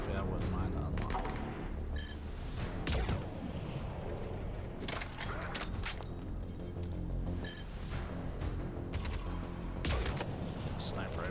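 Gunfire and heavy booms from the Mass Effect 3 video game on PS3, including sniper rifle shots, with repeated sharp reports and blasts over a dense, continuous battle mix and speech.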